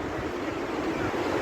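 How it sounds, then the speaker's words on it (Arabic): Steady broadband wind rushing at a beach on the sea, a constant airy roar with surf-like texture and light microphone buffeting, no voices. "والله شوفوا على ريح"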